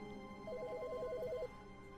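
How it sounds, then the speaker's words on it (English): Telephone ringing in The Stanley Parable, a single faint trilling electronic ring lasting about a second, alternating rapidly between two tones over a quiet room hum. "There's a phone ringing."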